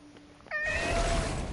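A cat in the game Forspoken gives a single clear meow partway through, nearly alone with only faint background ambience.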